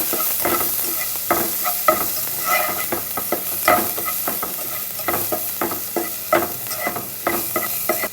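Spring onion sautéing in a pan for vegetable soup, a constant close sizzle broken by repeated scraping strokes of a spoon in a brisk, uneven rhythm.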